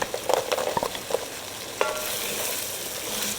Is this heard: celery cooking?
yes